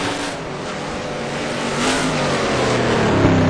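A Corvette race car at Trois Rivieres circuit roars steadily at high revs while it struggles to stay on track, with a sustained loud engine note that rises slightly and no voices.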